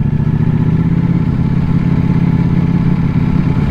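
A Ducati Panigale motorcycle rides through downtown streets, its engine a loud, close, steady throbbing drone with a fast pulsing rumble and no pauses.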